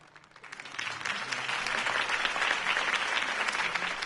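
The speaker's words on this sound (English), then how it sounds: "could have heard that applause" Video game crowd applause after a campaign speech in Batman: The Telltale Series swells quickly from a few claps into sustained, dense clapping that holds steady and fairly loud until the end.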